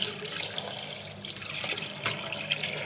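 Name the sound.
water running from an open kitchen tap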